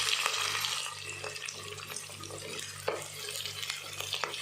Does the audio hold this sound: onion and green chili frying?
yes